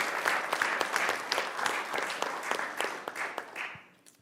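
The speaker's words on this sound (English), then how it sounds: "give one more round of applause for our panelists and speakers" An audience claps steadily for several seconds, a dense round of applause that fades out at the end.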